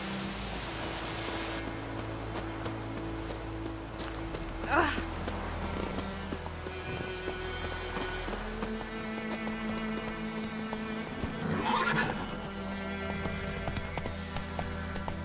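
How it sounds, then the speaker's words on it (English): Hooves of a horse in the open-world game The Witcher 3: Wild Hunt clop along at a steady trotting pace, with a couple of louder bursts and faint background voices. "Whoa there, Roach. Giddy up."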